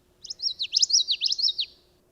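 One common yellowthroat warbler song phrase, a quick run of repeated witchity notes lasting about a second and a half, sung close and clear against quiet surroundings.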